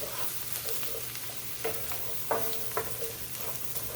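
Curry powder sautéing in a pan for a Japanese goat curry gives a soft, steady sizzle, with a few sharper stirring scrapes and clicks standing out now and then.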